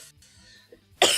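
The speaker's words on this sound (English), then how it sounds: "I am still coughing." A single loud, harsh human cough bursts out at the end after quiet low background hum, close to the microphone and alone.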